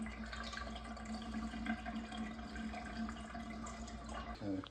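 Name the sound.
bathtub draining after clearing a clog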